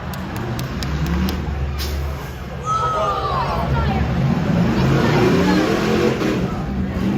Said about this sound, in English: And the 17 now is able to drive sideways.